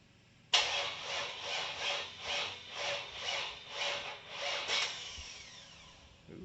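A 6.0 LS V8 swapped into a 1978 El Camino cranks over loudly and close by. The starter makes steady, evenly spaced pulses for about four seconds, then cuts off without a clear catch.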